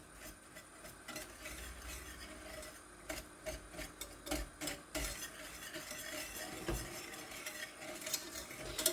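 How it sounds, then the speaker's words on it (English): Homemade pancake syrup mixture being whisked in a pot, a faint series of irregular scraping and rubbing strokes against the metal, a little louder toward the end. "we want to whisk this to combine"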